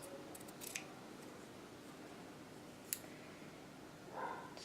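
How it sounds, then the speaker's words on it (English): Scissors cutting a small strip of felt: faint, quiet snips and light clicks close by, with a few short metallic cuts against a soft, hushed background. "I'm just going to cut a little tiny strip of felt"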